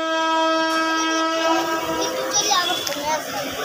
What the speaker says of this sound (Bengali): আর ট্রেনটিকে আবার পেছনের দিকে নেওয়া হচ্ছে